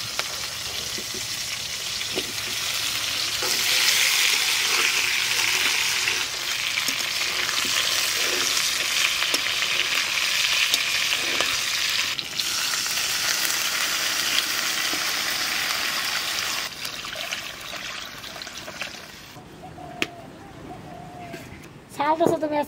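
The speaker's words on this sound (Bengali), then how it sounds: "মাছ ভাজা তেলের মধ্যে দিয়ে দেবো জিরে, আর দিয়ে দেবো কটা কাঁচা লঙ্কা" Cumin seeds and green chilies hit oil left over from frying fish, bursting into a loud, steady sizzle that holds for a long stretch, with stirring, a sharp clack and talking over it near the end.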